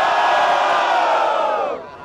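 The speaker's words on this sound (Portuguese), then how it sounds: "Vamos lá, vamos lá! Barulho para cima do Nego" Crowd at a Brazilian rap battle in Barueri, São Paulo roaring and cheering loudly and continuously, close and dense, fading slightly at the end.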